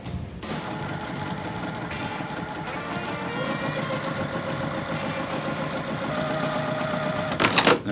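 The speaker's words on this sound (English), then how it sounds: "Now, right sides together, we're gonna sew both of these on" A sewing machine stitches quilt pieces together in a steady, continuous mechanical whir of rapid needle strokes, close and fairly quiet, with no talking.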